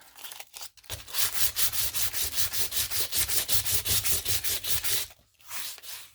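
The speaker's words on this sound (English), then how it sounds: "Guess I'm going to have to get a little bit grittier sandpaper." Sandpaper is rubbed back and forth over a collaged surface in a fast, even series of about twenty scratchy strokes, close and fairly loud, after a few brief scrapes and a short pause, ending with a couple more scuffs.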